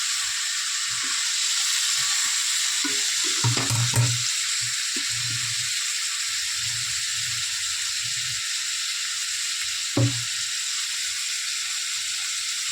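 Fried onion, tomato and capsicum paste sizzling in a pan for chicken kosha, a steady bright hiss throughout with a few low clunks and stirring scrapes, one sharp knock near the end.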